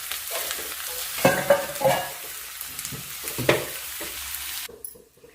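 Soaked chana dal fries in a pan with a steady sizzle, broken by several distinct scraping strokes as it is stirred, before the sound drops away near the end.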